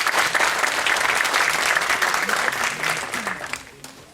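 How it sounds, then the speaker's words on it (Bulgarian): An audience applauds at the final stage of a student pitch competition, a dense steady wash of clapping that fades toward the end, with faint voices underneath. "Аплодисменти."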